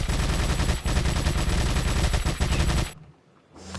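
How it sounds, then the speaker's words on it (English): The TMP submachine gun in Resident Evil 4 fires in a sustained rapid automatic burst for nearly three seconds, loud and close, then cuts off into near quiet. "But this is the TMP. It's a submachine gun you can get later in the game."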